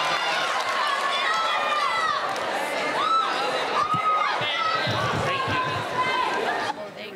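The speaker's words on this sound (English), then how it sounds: "Round of applause, ladies." A crowd at a Thursday evening youth conference service roars for the winning ladies, the youth pastors' wives, with dense cheering, whistles and whoops over continuous applause and chatter, loud and sustained, thinning only in the final moment.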